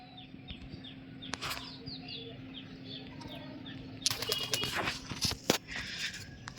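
Pigeons on a rooftop flap their wings in sudden bursts, loud clattering flurries near the end over a steady background hum, with a few faint chirps.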